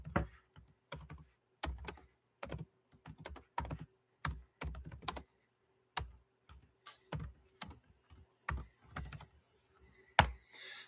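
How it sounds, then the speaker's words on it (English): Bursts of typing on a computer keyboard, quick clusters of key clicks separated by short pauses, close and fairly quiet in an otherwise silent room. "Let me get it typed in."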